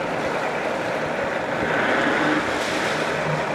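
A 2010 Mercury 150hp two-stroke outboard with 25-inch shaft running steadily at idle and shifted into gear, a constant loud engine drone with water noise and no talk.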